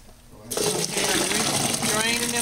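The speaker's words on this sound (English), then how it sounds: "And I just run some hot water over and rinse them." Hot tap water runs steadily over drained red beans being rinsed in a kitchen, a loud continuous splashing that starts abruptly after a brief quiet moment and holds to the end.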